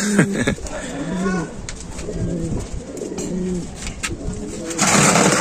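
Racing pigeons coo repeatedly in a loft after returning from a race, their soft, throaty calls close and overlapping, with brief rustling and a louder burst near the end.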